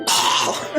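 A person imitates a cat coughing up a hairball, one short loud raspy hacking cough close up, alone with no words.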